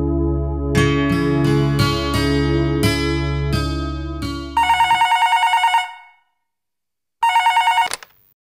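A telephone bell rings loudly over a sustained musical tone, followed by two bursts of rapid electronic trilling ringtone separated by a short silence, with no speech.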